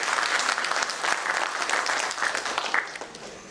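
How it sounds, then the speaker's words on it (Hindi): An audience at a talk on dairy farming and animal health applauds loudly and steadily throughout, a dense wash of clapping from a sizeable crowd without pause. "जोर से एक बार ताली हो।"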